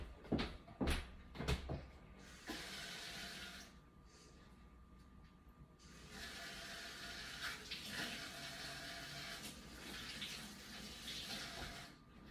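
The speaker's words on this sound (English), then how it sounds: "I'm about to go put some water in this." Water runs from a tap into a mould, a hissing, splashing stream that starts after a few knocks and clatters and carries on steadily at a moderate level, with no voices.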